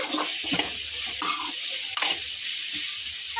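Beetroot fry with salt and turmeric stirred in a pan, a close steady sizzle with scraping strokes of a spoon through the pieces, no voices.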